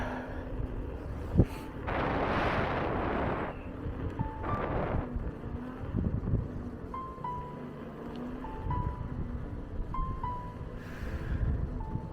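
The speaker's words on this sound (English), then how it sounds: "an area that just had some crazy strong wind, that it actually moved me a little bit" Strong gusts of wind buffet the microphone while riding an Inmotion V electric unicycle outdoors, loud roaring bursts over steady road and motor noise.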